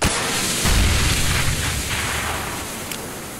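A smoke grenade thrown in Counter-Strike at a DreamHack Open match: a sharp burst at the start, then a louder low thump and a hissing wash that fades slowly, with no talk.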